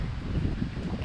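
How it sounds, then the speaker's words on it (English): Low, rumbling wind buffets a nearby microphone in continuous gusts outdoors beside a Cub Cadet XT1 LT50 lawn tractor, with no voices. "It's bloody windy."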